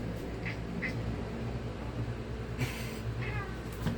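A cat meows and whines indoors, a few short, moderately loud cries spread across a steady low background hum.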